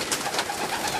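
Racing pigeon in a Polish loft cooing softly, a few close, low, throaty coos over faint background noise, with no talking.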